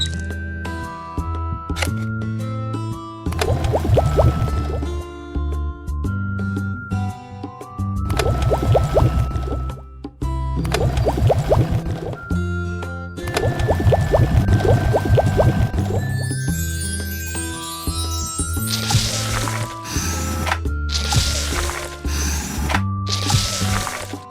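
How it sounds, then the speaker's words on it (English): A cartoon ice cream machine in the game Little Panda's Ice Cream Bars mixes heavy cream and condensed milk, with bright pouring and bubbling effects over a loud, bouncy music track that runs throughout. "Turn on the machine and mix heavy cream and condensed milk."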